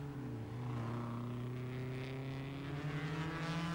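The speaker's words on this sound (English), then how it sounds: "And at the carousel, the Lancia Ferraris run first and second, right in there" Lancia-Ferrari race cars from the 1957 German Grand Prix roar past, their engines a sustained droning whine with slowly shifting pitch, heard fairly distant on an old recording without commentary.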